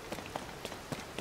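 Rain in The Legend of Zelda: Tears of the Kingdom patters faintly on surfaces, a quiet hiss broken by scattered soft drop-like taps.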